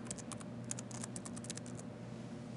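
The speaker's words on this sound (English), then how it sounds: "Step one is type in tennisandlearning.org" Rapid keystrokes on a computer keyboard as a web address is typed, a dense run of light taps over the first second and a half, then fading into a steady low hum, close and fairly quiet with no speech.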